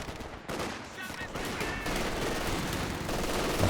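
Artillery and gunfire in a Company of Heroes 2 2v2 match: a steady, loud bed of battle noise with bursts of shots and explosions, a commentator's voice faintly mixed in.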